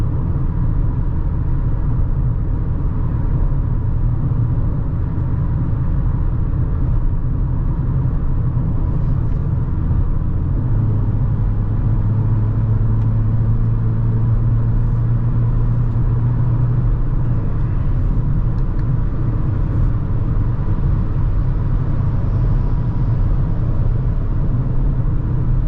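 Car cruising on a highway at about 115 km/h, steady loud engine and road rumble throughout with a low droning hum and no breaks.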